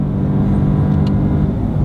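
2019 DS3 Crossback Performance Line engine note while driving on the road, a steady low rumble heard from inside the cabin, with no talk.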